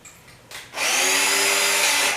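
A handheld power drill bores a pilot hole through a foundry pattern with a longer drill bit, a short tap then a steady, loud whirring grind lasting about a second and a half before easing off.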